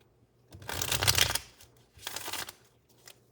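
Tarot cards are shuffled close up in two brisk riffling bursts, the first longer and louder, then a soft tap.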